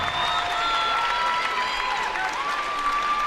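Crowd at a girls' regional finals basketball game, Howe Lady Bulldogs against Winnsboro Lady Raiders, clapping and cheering at full volume during a timeout, a dense, steady roar of applause and shouts.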